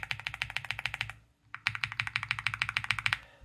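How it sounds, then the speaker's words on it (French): Rapid, steady typing on an Epomaker Galaxy 80 mechanical keyboard with lubricated switches, a dense run of close, fairly loud keystrokes with a deeper tone, broken by one short pause before the typing resumes. "Et voilà le son du switch lubrifié."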